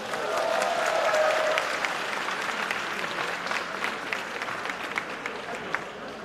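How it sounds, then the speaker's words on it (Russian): Audience applause fills a hall at a regional leadership competition in Ufa, a dense sustained clapping that is loudest early on and tapers slightly toward the end, with no talking over it. "Аплодисменты!"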